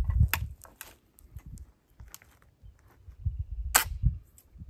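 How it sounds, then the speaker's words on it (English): A flintlock black powder gun fired with hay bale powder, a sharp crack standing out near the end among scattered clicks and handling knocks outdoors, with no talk. "Shot number two with the hay bale powder."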